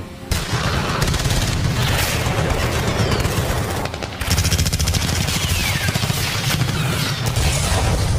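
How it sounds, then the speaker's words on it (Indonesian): Rapid, continuous bursts of gunfire used as a sound effect in a crime documentary about an armed clash between soldiers and police; dense, loud and rattling, with a brief dip midway before the barrage resumes. "Suasana semakin mencekam saat tembakan-tembakan dari pasukan Linut mulai menghujani truk-truk Brimob."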